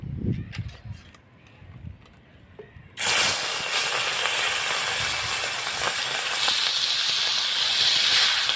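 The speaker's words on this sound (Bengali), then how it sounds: "তেল গরম হয়ে গেছে, এবার আমি মাছগুলো ভেজে নেব" Pieces of fish hit hot oil for a bhuna chingri dish and burst into a loud, steady hiss and crackle that keeps going on its own after some quieter kitchen clatter.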